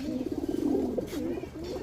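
Highflyer racer pigeons cooing close by, a rapid series of low throaty rolling coos repeating in bursts, clear and unaccompanied by talk.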